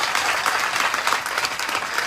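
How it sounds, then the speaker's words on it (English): Applause from an audience at a school visit by Sierra Leone's first lady, a steady, dense patter of many hands clapping without a break. "Can we give her a lot of applause for that?"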